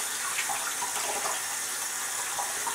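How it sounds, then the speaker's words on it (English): Cool tap water runs steadily over toy troll dolls being rinsed, a close, continuous hiss and splash of flowing water with no pauses, no talking. "So I'm rinsing them in cool water."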